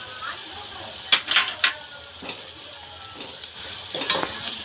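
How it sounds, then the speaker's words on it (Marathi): Onion-garlic masala with hing sautéing in oil in a pan for Kolhapuri misal, a low steady sizzle broken by a few sharp scraping stirs of the spoon, close and fairly quiet. "हे पूर्ण सर्व मिश्रण एक एकजीव चांगलं तेलात परतून घ्यायचं"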